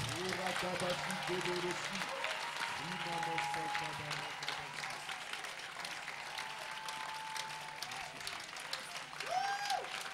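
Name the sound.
congregation acclaiming the Holy Spirit, applause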